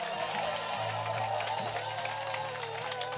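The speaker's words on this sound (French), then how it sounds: "On se tient debout, on acclame fortement Jésus." A standing church congregation cheers and applauds loudly for Jesus, a steady wash of clapping and voices with a held tone underneath that continues without pause.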